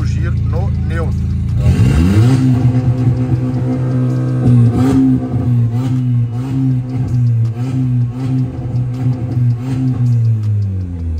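A Volkswagen Jetta with a straight-pipe exhaust, not yet remapped, revs hard in neutral. The loud, close engine climbs sharply and then holds against its rev limit with a steady, bouncing drone, while someone talks over it.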